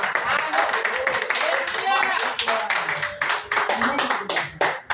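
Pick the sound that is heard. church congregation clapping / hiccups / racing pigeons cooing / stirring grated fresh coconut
church congregation clapping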